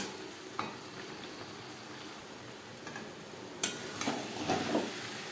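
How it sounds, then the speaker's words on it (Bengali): Chicken and potatoes cooking over a high gas flame as they are stirred together: a faint steady sizzle with occasional clicks and scraping stirs growing busier toward the end, quiet and without speech. "চিকেনের সাথে আলু বেশ ভালো করে মিক্সড করে দেবো গ্যাসের হাইতে করে দেবো"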